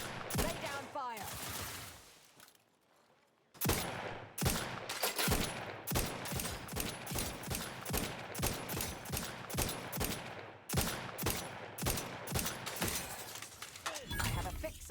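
Gunfight in the game The Outer Worlds 2, loud rapid shots cracking in quick succession, a brief lull of near silence, then a long, evenly paced volley of sharp reports with a voice briefly in the mix.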